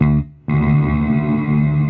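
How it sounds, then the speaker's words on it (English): EarthQuaker Devices Afterneath V3 reverb pedal with its delays smoothed out, a loud sustained guitar tone that cuts off briefly, then swells back as a thick, washed, continuous reverb wash. "they have kind of now like reverb on each individual delay"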